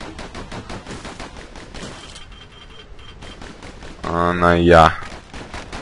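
Dual pistols firing in Bastion: a rapid string of sharp pistol shots runs through the first two seconds, then fades as a louder tonal game effect swells near the end, with a brief spoken word in the clip.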